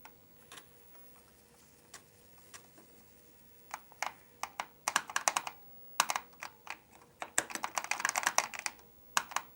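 Typing on the keyboard of an Apple IIe computer, a series of sharp key clicks that starts sparse and grows into quicker, denser bursts, close and clear over a faint hum.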